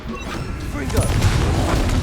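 Confringo explosion spell in Hogwarts Legacy, a loud booming blast with crashing impacts that swells midway and keeps rumbling, with game voices mixed in.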